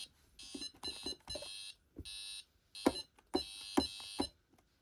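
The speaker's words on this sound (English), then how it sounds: "It's probably going to go in alarm or something." A 1990s Pyronix Paragon intruder alarm system sounds off in bursts of loud, shrill electronic tones, stopping and restarting irregularly with brief gaps and some low knocks between them.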